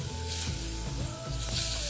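Butter melts in a pan to start a white sauce for macaroni cheese, giving a close, continuous hissing sizzle with a few light clinks and shifts along the way.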